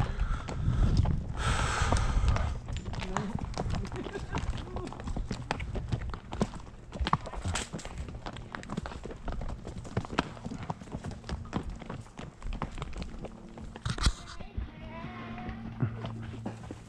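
Hooves clip-clop at a steady walking pace on a dirt trail, with some rustling and people talking nearby.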